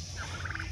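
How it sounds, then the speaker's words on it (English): A brief, soft burst of rapid gobbling from young turkeys in a farm pen, close by and over a low steady hum. "juvenile turkeys in here with him"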